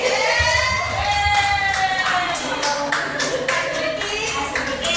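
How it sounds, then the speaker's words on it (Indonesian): Applause from a small group of teachers at a workshop fills the room, many hands clapping steadily for several seconds with a bit of crowd murmur underneath. "Kita kasih tepuk tangan dulu ke Pak Hendrik."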